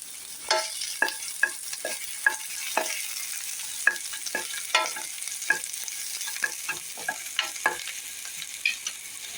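Two cloves of crushed garlic sizzle in a hot pan for a Kerala-style pumpkin koottu, with repeated sharp scraping strokes of a spoon stirring at an uneven rhythm over a constant close fry.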